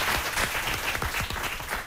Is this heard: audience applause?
yes